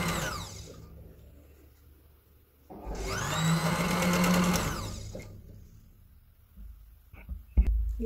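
An electric sewing machine runs in a steady whirring burst of a couple of seconds while stitching a cloth cover for a Quran, with quieter handling noises before and after.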